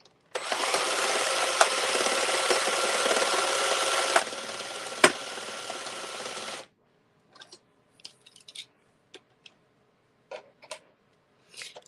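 A steady mechanical whirring of an Addi King Express knitting machine cranked by a drill runs for several seconds, then stops, followed by scattered light clicks and taps.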